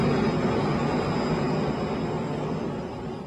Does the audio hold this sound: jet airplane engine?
yes